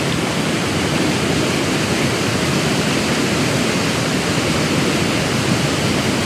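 A steady, full roar of falling water, constant and close, with no breaks or other sounds over it.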